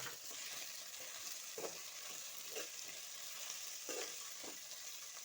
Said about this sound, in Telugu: కొత్తిమీర యాడ్ చేసి ఒక్కసారి ఇలా కలిపేసుకుందాం